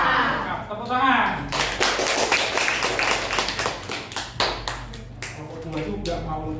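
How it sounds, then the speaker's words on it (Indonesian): A group of students claps together in a classroom session, a dense burst of applause that tapers into scattered taps, with voices and chuckles mixed in. "Tepuk tangan."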